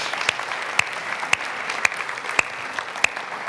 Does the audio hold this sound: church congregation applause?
yes